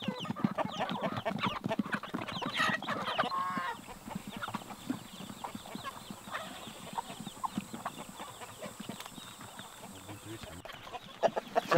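Chickens cluck and fuss in a newly built coop at a rural family home in Namwon, a steady busy mix of close and farther calls over outdoor background noise.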